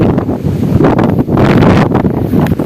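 Strong, dry wind gusts across open rice fields, roaring and buffeting the microphone in loud, uneven surges with no voices.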